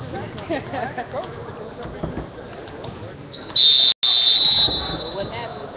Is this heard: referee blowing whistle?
yes